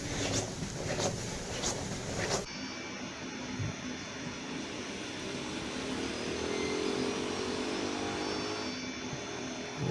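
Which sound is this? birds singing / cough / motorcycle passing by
motorcycle passing by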